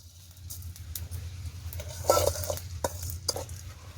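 Cumin and spices are stirred and dry-roasted in a pan for a village-style crab masala, with steady scraping and light sizzling over a low rumble and a few sharper clinks of the utensil against the pan.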